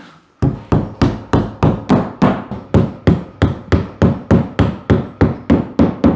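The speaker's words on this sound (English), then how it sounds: "Hammer it in so it's flush to the wall on all 3 holes." A hammer drives a wall plug into a wall in a steady, even rhythm, around seventeen loud, sharp blows close by, each ringing briefly before the next.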